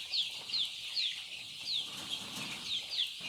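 Laying hens on a poultry farm in Mayotte give short, high clucks and chirps, quiet and somewhat distant, repeating at irregular intervals over faint background noise.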